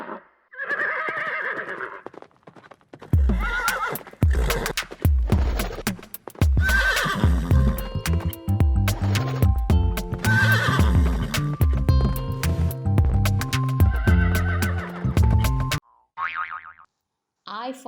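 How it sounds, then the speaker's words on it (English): A loud horse whinny rings out amid a rapid clip-clop of hooves, with a bouncy cartoonish boing and a voice speaking over it. "H for horse. H for horse."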